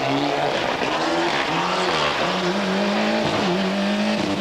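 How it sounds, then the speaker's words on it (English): A rally car engine roars loudly and steadily up close during a spin at the 1996 Rallye Azur d'Antibes in France, its revs rising and falling with squealing tires as the car slides around. "For Gottlinger, a spin on stage 5 didn't help."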